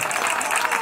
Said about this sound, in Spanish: A las tres, un aplauso.